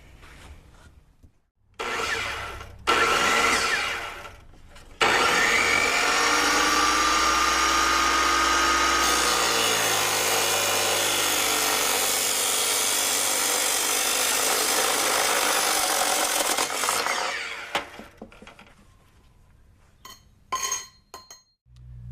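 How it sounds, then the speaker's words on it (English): A power saw fitted with a new metal cutoff blade cuts metal for a custom camper van storage box, giving a loud, continuous grinding whine of about twelve seconds, with short bursts before and after. "So I got this blade, just arrived yesterday in the mail, and we're going to start cutting."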